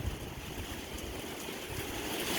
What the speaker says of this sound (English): It's just the rain is pouring down